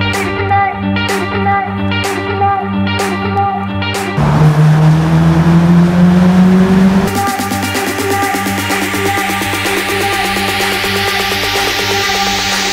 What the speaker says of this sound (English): The only thing that does get a little bit full on is the exhaust being right next to your ear.